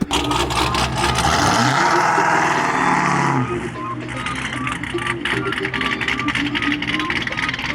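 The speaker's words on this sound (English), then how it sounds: "That Camaro sounds crazy right there" A Chevrolet Camaro leaving a cars and coffee meet revs hard, a loud sustained engine roar rising in pitch then easing off into a steadier drone as it pulls away, with crowd noise around.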